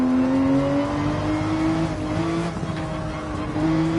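Porsche 911 racing in Gran Turismo 7, the engine note rising and falling through gear changes as it corners, loud and close with some tire noise and no talk.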